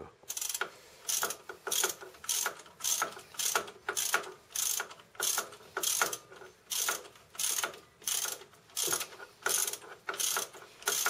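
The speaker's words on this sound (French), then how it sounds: "Si vous n'avez pas de clé dynamométrique, n'hésitez pas à serrer fortement, hein, l'étrier." A ratchet wrench tightens a brake caliper on a Renault Clio 2, giving about a dozen quick, evenly spaced bursts of clicking, close and clear with no talk.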